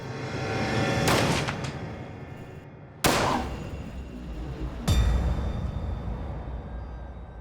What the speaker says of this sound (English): she takes his gun and pulls the trigger